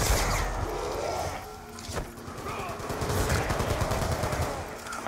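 Gunfire in the Black Ops 2 Zombies map Buried, a dense rapid stream of shots with heavy game noise and clutter throughout, fairly loud and continuous.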